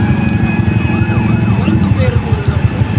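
A fire truck's siren wails loud and steady, rising and falling, as the engine drives counterflow down a one-way street toward a fire at a plywood rental building in Intramuros, with steady traffic rumble beneath.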